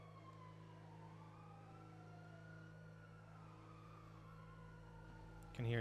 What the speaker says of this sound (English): Can hear a shit ton of sirens.